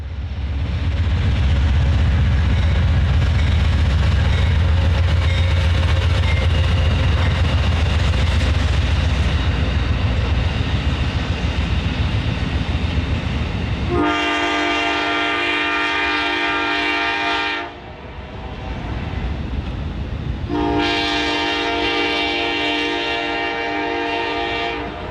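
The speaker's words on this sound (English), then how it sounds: "westbound Amtrak Wolverine 351 passed by the yard as it was slowing for a station stop at nearby Jackson" Westbound Amtrak Wolverine passenger train 351 rolls past a rail yard near Jackson, Michigan, slowing for a station stop. A loud, sustained rumble carries through, broken by two long, blaring horn blasts, and the train stays near and powerful throughout.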